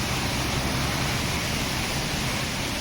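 Floodwater rushes and drains in a constant, loud broadband roar, steady and unbroken throughout with no voices.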